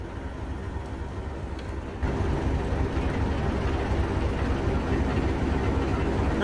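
Class 47 diesel locomotive engine in the Trainz Plus game on the Bodmin & Wenford Railway, a steady low rumbling drone that steps up louder after about two seconds and holds a constant idling throb, close and alone.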